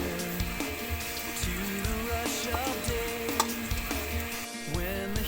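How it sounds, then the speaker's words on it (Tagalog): Thinly sliced garlic frying in hot oil, a steady bright sizzle punctuated by periodic stirring scrapes in a rhythmic pattern, close and loud, with no talking. "Niprito na natin yung bawang na hiniwa natin sa maliliit pang toppings mamaya."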